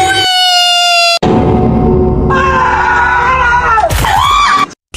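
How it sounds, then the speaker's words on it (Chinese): A teacher character in a video game lets out a loud, drawn-out scream mixed with other sharp game effects, with brief pauses between bursts. "听到老师的惨叫了"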